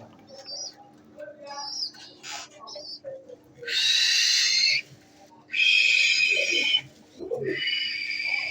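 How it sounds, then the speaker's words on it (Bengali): A red male Hungarian High Flyer Budapest pigeon gives low, soft cooing calls scattered through the clip, mixed with sharper bird calls and longer loud bursts of rushing hiss. "রেড কালারের হাঙ্গেরিয়ান হাই ফ্লায়ার বুদাপেস্ট একটা নর কবুতর"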